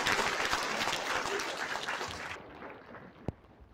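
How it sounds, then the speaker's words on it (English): A round of applause from an audience at a youth development program event in Meghalaya, dense clapping that cuts off abruptly partway through, followed by near silence and a single sharp knock. "A round of applause."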